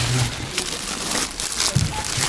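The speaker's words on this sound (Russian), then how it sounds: "Сейчас возьму этот пакетик." A plastic produce bag crinkles in a supermarket, with close rustles and crackles coming in irregular bursts.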